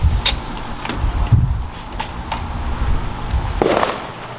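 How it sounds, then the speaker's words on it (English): Several sharp bangs and pops of Fourth of July fireworks go off at uneven intervals, some louder and closer than others, over a low rumbling background. "Those are fireworks, too."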